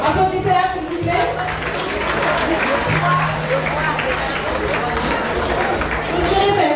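Applause from a pageant audience for a Miss Centrafrique contestant, steady clapping and crowd chatter that carry on for several seconds, with voices mixed in over the din.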